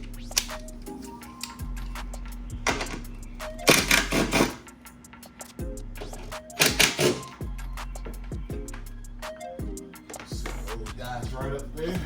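A wrench tightens 10 mm bolts on the intake of a Dodge Charger Hellcat during a JLT intake install, giving a series of quick ratcheting clicks in bursts with metallic taps and pauses between, close by.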